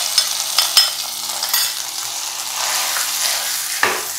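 Ghee-fried cashews and raisins tipped into a pot of sweet pongal, giving a broad crackling sizzle with a few sharp clinks near the start and a soft thump near the end, close and without talk.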